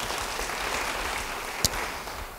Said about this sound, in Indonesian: Beri tepuk tangan yang baik bagi Tuhan.